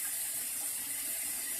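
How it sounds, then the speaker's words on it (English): Tap water running into a cooking pot in a home kitchen for pasta, a steady loud hiss and splash from close by, unbroken throughout with no talk. "I'm putting water in my pot."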